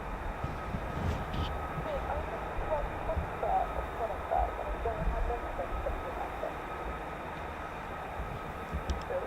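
A flight of two F-35B stealth fighter jets departs an RAF base, their engines a distant, steady roar rumbling under intermittent talk.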